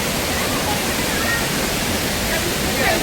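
Devkund waterfall roars in a steady, dense wash of falling water, close and loud, unbroken across the whole moment.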